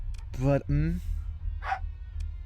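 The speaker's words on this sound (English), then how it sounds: "I don't know if you can hear my dogs right now, but you know, they're just really excited." Excited dogs bark and yip a few times in the background, with a voice briefly speaking over them near the start.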